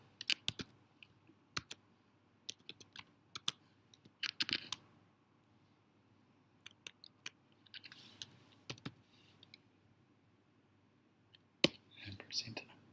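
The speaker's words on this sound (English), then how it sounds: "So we just have to type that in." Computer keyboard typing close by, quiet scattered clusters of key clicks with pauses between bursts, under a soft voice speaking.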